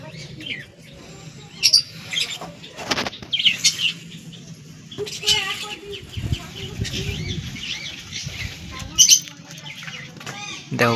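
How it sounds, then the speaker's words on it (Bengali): Pet pigeons take flight around a home loft, with repeated bursts of flapping wings, scattered chirps and bird calls, and an occasional voice in the background. "তোমাদের পায়রাগুলো এখনো উড়ছে, দেখো"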